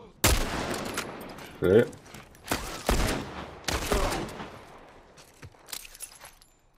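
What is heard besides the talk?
gunshots in the video game The Last of Us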